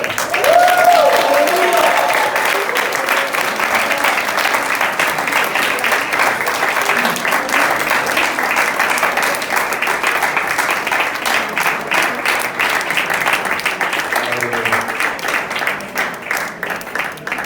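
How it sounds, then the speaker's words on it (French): A church congregation at a baptism service applauds to acclaim the Lord, sustained loud clapping from a large crowd that goes on steadily for many seconds, with voices mixed in underneath. "je vous propose d'acclamer encore le Seigneur"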